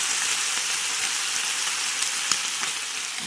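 Yakiniku meat sizzles steadily on a grill at an indoor camping-style meal, a dense, close crackle with a few small pops and no talking.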